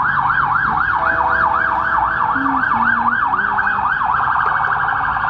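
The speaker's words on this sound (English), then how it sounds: "Don't mind the sirens in the background ruining my damn shot." A loud wailing emergency siren cycles up and down repeatedly, steady and close, with traffic rumble underneath, in a small town.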